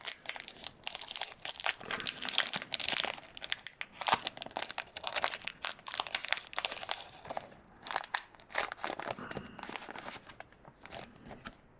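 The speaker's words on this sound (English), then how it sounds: "Oh, failed at opening this one too. They just want to rip right at the top there." A Pokemon card booster pack from a 2017 collectors chest is torn open up close, with bursts of crinkling, ripping foil and crunching wrapper handling in an uneven rhythm, no one speaking.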